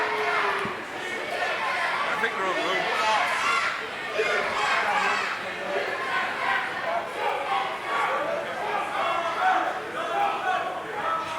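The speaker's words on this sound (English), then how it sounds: "Boy, the crowd is on Severn here." Crowd noise at a pro wrestling championship match, a continuous roar of cheering and chatter from the audience, with voices talking over it.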